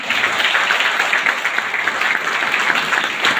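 An audience claps loudly for two mentors, a dense, continuous roar of applause with a steady level and no voices on top.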